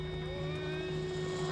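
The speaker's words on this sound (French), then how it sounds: "Oh, l'hélico, il est où?" Helicopter in The Last of Us video game, a steady rotor drone humming continuously at moderate level with no break.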